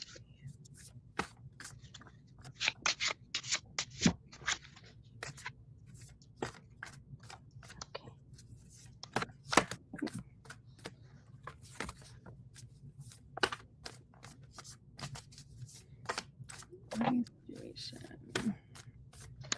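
Tarot cards being shuffled at a live reading, giving repeated soft crisp riffles and card slaps in irregular bursts, fairly close and quiet, with a low background hum.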